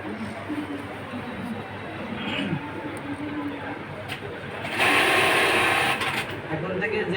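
Two-needle bartack sewing machine running during a workshop training session, a close mechanical whirr that surges louder midway, with people talking over it.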